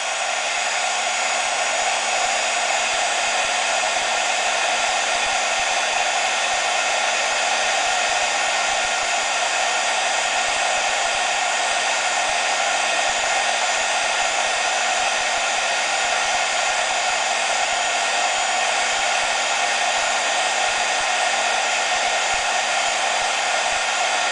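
A heat gun blows hot air onto an HO-scale 1:87 Tyco Varney model railroad car during a kitbash. It makes a continuous, loud, even whirring roar that holds steady throughout, with no speech.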